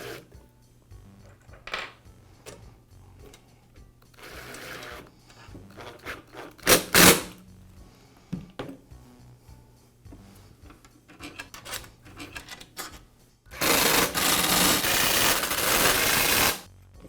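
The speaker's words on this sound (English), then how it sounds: "you can begin to re-secure the housing with the screws" A DeWalt scroll saw's housing is screwed back together, with irregular scraping and rubbing, sharp clicks and knocks, and a sustained louder rasping stretch near the end.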